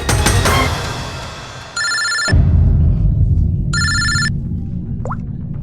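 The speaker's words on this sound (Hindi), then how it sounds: "फ्रेडी का फोन था" A telephone ringing in a crime drama scene, two electronic ring bursts a couple of seconds apart over a loud background of music and ambience.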